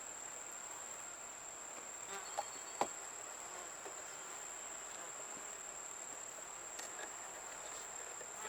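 Insects drone around an open Flow Hive of honeybees during an inspection, a faint steady high buzz with a couple of soft knocks and clicks, no talking.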